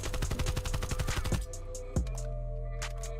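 Bursts of close, loud automatic fire from an AK-74U rifle in Call of Duty Black Ops Cold War, then a sharp mechanical clack and a couple of faint clicks.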